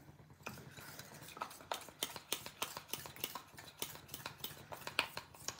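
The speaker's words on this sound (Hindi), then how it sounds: "अच्छे से मिक्स कर लेंगे।" Cocoa powder being stirred into a mixture with a spoon, a quick run of soft clinks and scrapes against the bowl in an uneven rhythm, close but quiet, no voices.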